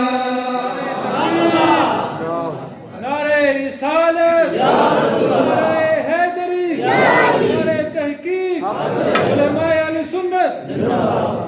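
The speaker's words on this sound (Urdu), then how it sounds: "تاجدار ختم نبوت اور لبیک یا رسول اللہ کے نعرے لگا رہی ہے" A crowd at a religious gathering chants Islamic slogans honouring the Prophet, with loud massed voices calling out phrases in repeated rhythmic waves and short breaths between them.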